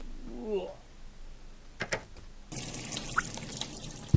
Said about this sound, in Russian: кран с какой-то холодной водой